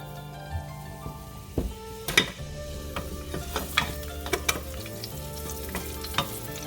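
White part of an onion frying in hot oil in a pan, a steady loud sizzle with scattered stirring clicks and scrapes throughout, no talking.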